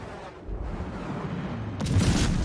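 Warship artillery fire in the naval battle game World of Warships: a low rumbling bed of distant gunfire, then a louder broadband blast near the end that keeps booming, with no talking.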